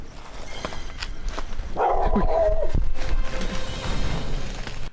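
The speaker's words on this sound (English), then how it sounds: "The team is startled back by a dog barking." A dog barks close by, a short burst of sharp barks over a busy, noisy background.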